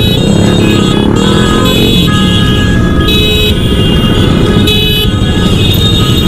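A dense crowd of motorcycles, including Suzuki Gixxer SF bikes, at a Victory Day rally in Bangladesh, engines droning loud and close with repeated horn toots layered over steady traffic noise.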